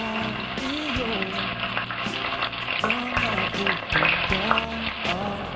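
Pieces of tofu are added one by one to hot oil in a pan and sizzle steadily, with crackling pops and clatter and a voice talking over the frying.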